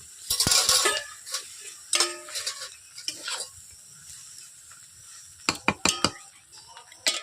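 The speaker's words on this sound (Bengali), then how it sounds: "বন্ধুরা এরপর আমি কড়াইটাকে নামিয়ে নিচ্ছি" A metal kadai of egg chow is lifted off a home stove: close scraping and stirring clatter with a soft sizzle at first, quieter shuffling, then a quick run of sharp metallic knocks and clinks near the end.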